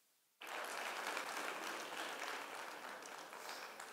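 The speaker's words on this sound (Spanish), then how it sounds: "el agradecimiento y el aplauso por su participación." Applause from a conference audience at a talk on technology and urban commerce. It starts abruptly from near-silence, then holds as a dense, even clapping that fills the room and eases only slightly toward the end.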